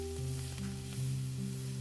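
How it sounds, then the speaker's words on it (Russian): Steady frying sizzle of vegetables in a pan, a continuous crackling hiss with a low hum underneath and no voices. "Обжариваем слегка еще пару минуток."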